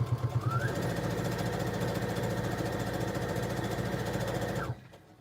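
A sewing machine stitches a narrow quilted fabric strip in one steady, fast mechanical run lasting several seconds, close and even, then stops abruptly near the end.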